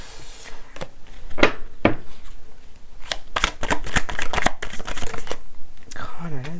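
Tarot cards being shuffled and handled, crisp riffling bursts and slaps close by, interspersed with someone speaking in French.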